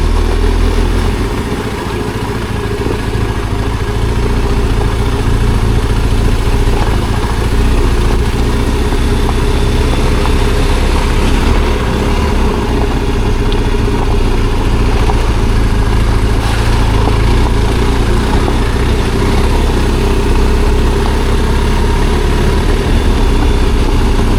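BMW R1250 GSA motorcycle engine riding off-road, a loud, steady mid-low drone with continuous rumble and wind noise that holds throughout at close range, with no voices.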